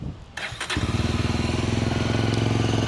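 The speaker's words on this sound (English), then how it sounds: "I'll just quickly start it up for you." A Yezdi Adventure 2025 motorcycle starts up: a short starter whir and a few clicks, then the engine catches and settles into a loud, steady, even idle thump, heard close with no talking.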